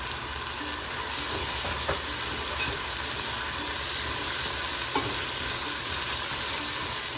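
Onion, ginger paste and garlic paste fry in a pan for chicken bharta, a loud continuous sizzle and hiss up close with occasional stirring scrapes, no talking.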